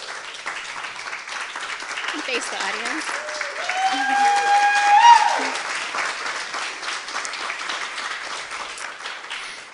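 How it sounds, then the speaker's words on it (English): Audience applause at a storytelling event on the theme of identity, steady clapping from a seated crowd rising to a peak midway, with a speaking voice over the clapping. "So please give them a round of applause."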